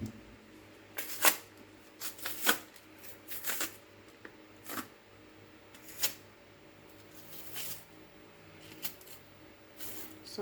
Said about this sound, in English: we are peeling the plantain now